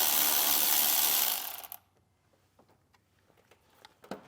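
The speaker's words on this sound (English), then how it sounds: "We'll take a 12mm socket, remove this nut." A 12mm socket ratchet clicks in quick, faint ticks while removing a nut on a 2020 Nissan Rogue, following a loud hissing burst that cuts off.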